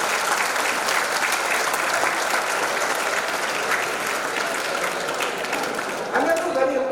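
Sustained, dense applause from a large audience at an Independence Day celebration at VIT-AP, steady and fairly loud throughout before tapering slightly near the end.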